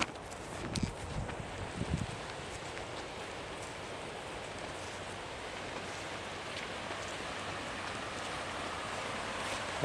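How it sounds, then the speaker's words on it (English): A woodland stream with good running water and a small waterfall between slippery, muddy banks, on a wild camping walk. It makes a steady, broadband rushing wash that carries on unbroken throughout. A few soft knocks and footsteps come near the start. "There's a stream down here."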